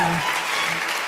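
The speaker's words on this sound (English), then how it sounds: "Please put your hands together for him." Conference audience applauding at a fintech event in Nigeria, a dense, steady wash of many hands clapping close and loud throughout, with no speech over it.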